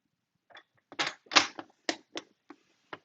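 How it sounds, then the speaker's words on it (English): A paper trimmer slices through a clear acetate window sheet, a quiet series of crisp clicking and scraping bursts as the blade runs along the cut. "let's bring in our trimmer so I can cut this window sheet to 2 inches."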